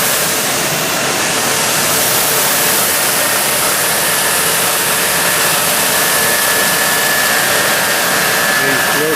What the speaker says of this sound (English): Here are two of our irrigation pumps.